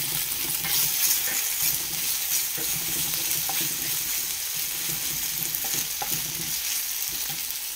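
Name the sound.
stir-frying vegetables for veg noodles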